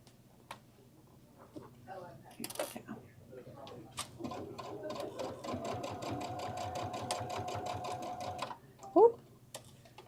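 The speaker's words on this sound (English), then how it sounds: "So we're gonna back stitch just till we get to the other one." A sewing machine back-stitches the binding on a quilted clutch bag, running in a steady mechanical chatter for several seconds before stopping. Someone talks quietly nearby.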